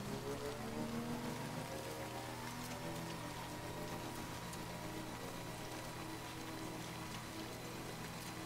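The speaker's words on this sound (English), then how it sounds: "It's the rain." Steady, dense rain falls in the video game Death Stranding, a continuous hiss of drops on surfaces with a low rumbling bed beneath, no voices.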